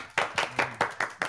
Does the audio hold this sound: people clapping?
yes